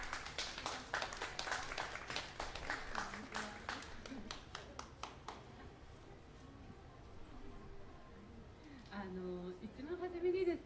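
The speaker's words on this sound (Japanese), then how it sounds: "拍手でお迎えください。" Audience clapping greets a hair and makeup artist coming up at a staged talk event, a burst of crisp claps that thins out over several seconds before a voice takes over.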